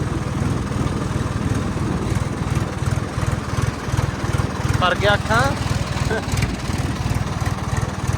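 A tractor engine runs steadily, a loud, evenly pulsing chug that keeps its rhythm throughout, with someone talking briefly over it midway.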